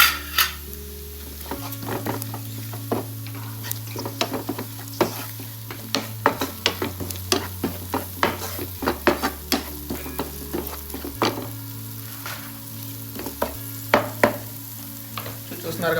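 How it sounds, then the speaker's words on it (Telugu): Ginger garlic paste fries in a pan for Saudi-style Murgh Masalam, a steady sizzle broken by frequent sharp spatula scrapes and clinks against the metal, with a low hum underneath. "కొంచెం అల్లం వెల్లుల్లి పేస్ట్ వేసుకొని ఇది కూడా మంచిగా ఫ్రై చేసుకోవాలి"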